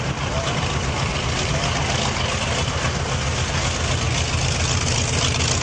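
Naval aircraft engine at an air show, a loud and constant low roar that holds steady throughout with no break.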